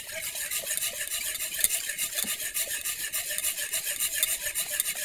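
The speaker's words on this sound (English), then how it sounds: "you want to stir vigorously, scraping the sides and the bottom" A spoon is worked vigorously through thickening cobbler filling in a pot, scraping the sides and bottom in a steady, fast rhythm of close rasping strokes with no voices.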